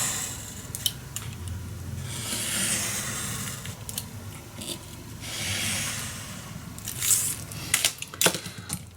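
Paper is cut for a large handmade wedding mini album, giving quiet rasping slices in two longer strokes, then a cluster of sharp snips and clicks near the end.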